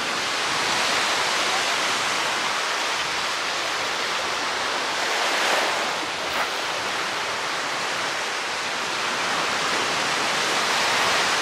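Broad steady wash of surf rolling onto Ardmore Hollywood Beach on Chicago's lakefront, a continuous hissing roar with a slight swell in the middle, no voices.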